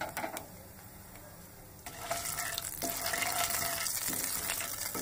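Whole spices of black cumin, a torn bay leaf, cracked cardamom and small cinnamon pieces sputtering in hot oil for a Bengali fish curry, a soft sizzle with a few sharp crackles and a brief stirring scrape, close and fairly quiet.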